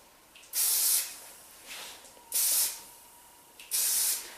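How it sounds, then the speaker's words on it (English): Three short bursts of hair root-lifter aerosol spray hiss close by, evenly spaced with pauses between them, and no talking. "Spray that at the root, obviously."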